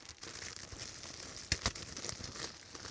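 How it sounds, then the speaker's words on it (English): Plastic wrapping crinkling and crackling as a new AC Delco cabin air filter for a Chevrolet Equinox EV is unwrapped, steady close rustle with a couple of sharper crackles, no talking. "For those of you who like hearing the unwrapping sound, there it is"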